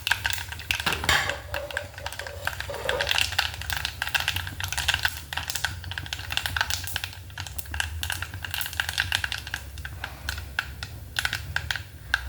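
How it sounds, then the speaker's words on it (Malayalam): Mustard seeds pop in hot coconut oil in a pan, a dense run of sharp, irregular crackling clicks, fairly close and loud, with a few metallic pan knocks and no speech. "കടുക് പൊട്ടുന്നുണ്ട്."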